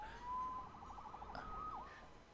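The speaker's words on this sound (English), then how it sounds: "Saved by the siren." A faint, distant police siren in the video game Spider-Man Remastered wails and warbles, rising and falling over a low background hum.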